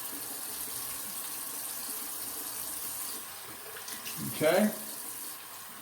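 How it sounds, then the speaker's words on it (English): Tap water running into a bathroom sink while someone rinses their face after a beard trim, a steady close wash with splashing near the end and a brief spoken word. "I'm gonna set it aside, I'm gonna rinse my face."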